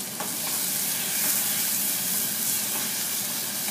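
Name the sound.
tomatoes frying in a pan for chicken keema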